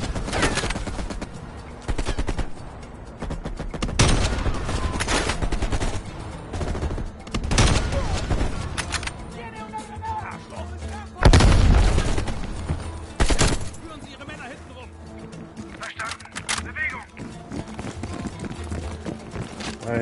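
Gunfire in Call of Duty: Black Ops Cold War comes in loud, sharp bursts and single cracks, with heavier volleys around the middle, over a busy game soundscape with players talking.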